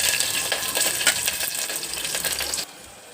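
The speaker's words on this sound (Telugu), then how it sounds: "కరివేపాకుని తిప్పగా నారించాలండి." Curry leaves frying in hot oil, crackling and sputtering with dense, rapid pops close by before the sizzle abruptly drops to a softer hiss.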